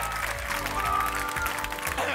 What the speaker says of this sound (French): J'aime ça qu'on applaudisse très fort Sacha